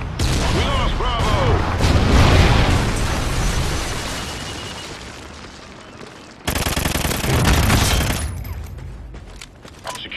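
Friendly Trinity rocket strike in Ghost Recon, a sustained barrage of loud, dense explosions and gunfire filling the first six seconds, then a fresh burst of blasts after a brief cutoff, with faint voices underneath.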